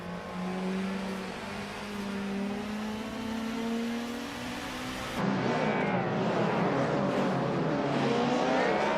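Racing game engine of a 1995 BMW M3 GT R, a continuous loud revving drone that steadily climbs in pitch, then shifts abruptly to a harsher, busier roar partway through, with no talking.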